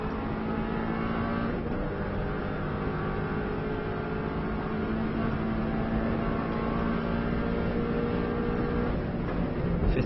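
Subaru car engine droning steadily at high speed in fifth gear on an Isle of Man lap, a loud, continuous in-car roar with wind and road noise and no pauses.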